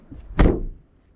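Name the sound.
2021 Mazda CX-30 door being closed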